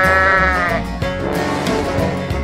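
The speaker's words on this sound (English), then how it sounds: "Sheep." A sheep lets out a loud, wavering bleat close by, with a second shorter call following, over a busy background.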